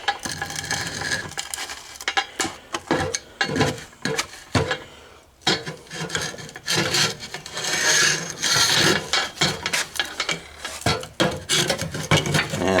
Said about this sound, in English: See if it picks up these metal shavings.